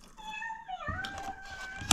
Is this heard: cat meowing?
yes